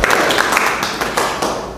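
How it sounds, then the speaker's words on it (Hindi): Brief burst of audience clapping welcoming franchise members at an event, a dense, close patter of hands that holds steady for under two seconds. "हमारी जो आईवी फ्रेंचाइजीज है उनका हम एक बार तालियां बजा करके हार्दिक स्वागत करते हैं।"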